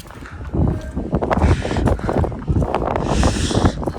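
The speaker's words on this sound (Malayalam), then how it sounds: "നല്ല തണുത്ത കാറ്റ്." Cold wind gusts across a hilltop skybridge at Nandi Hills near Bangalore, buffeting the microphone in rough, uneven surges with faint rustling.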